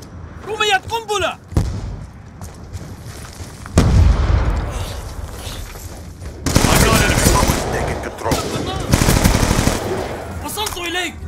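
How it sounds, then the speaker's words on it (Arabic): A grenade blast and bursts of automatic gunfire in Call of Duty Black Ops II team deathmatch multiplayer, with heavy booms and rapid crackling shots filling most of the stretch, loud and close, over brief game chatter. "رميت قنبلة."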